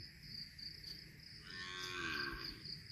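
A cow on a farm lets out one long, low moo in the middle, moderately close, over a steady hum of outdoor background noise.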